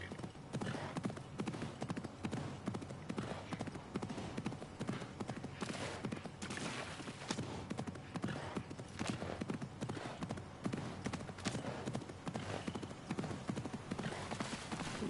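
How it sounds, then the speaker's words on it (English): A donkey's hooves clatter fast and steadily in Assassin's Creed Mirage, a dense, even clip-clop that runs the whole time at moderate volume, with faint background ambience and no talk. "Yo, that donkey moving fast"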